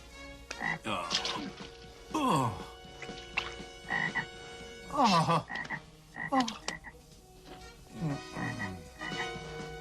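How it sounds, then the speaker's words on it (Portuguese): Frogs croak loudly and repeatedly, a chorus of rasping calls in irregular bursts, close and prominent, in a dramatized plague of frogs over Egypt. "Remova do Egito a praga das rãs"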